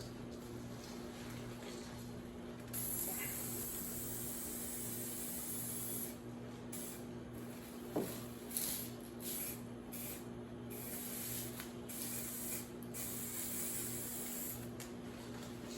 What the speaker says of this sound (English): let me spray bomb my car.